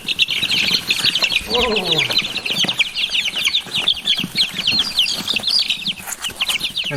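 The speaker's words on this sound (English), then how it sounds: "I know you guys have been hearing our chicks peeping the whole time" White Chanticleer chicks hatched by hens peep in a constant, busy chorus of high chirps throughout, with one short voiced exclamation partway in.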